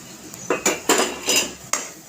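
Spoon scraping and clanking against a pan as masala powder is stirred into mushroom gravy, a handful of sharp metallic knocks and scrapes spaced across a short stretch, close and fairly loud with no talking.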